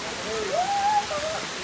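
Water runs along an irrigation canal beside a village, a steady broadband rush. A brief rising tonal whistle sits above it midway through.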